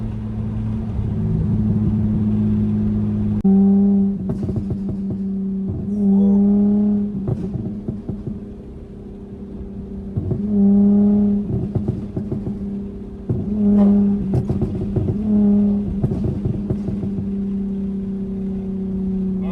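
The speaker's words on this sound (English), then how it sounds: "those burbles be going crazy, man" A tuned Dodge Charger SXT on a back road, its exhaust burbling and popping in repeated crackling bursts over a deep engine drone as the car lifts off and gets back on the throttle.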